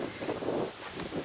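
Gusty wind blows through an outdoor garden, a soft broadband rush that swells and eases across the moment, with no voices.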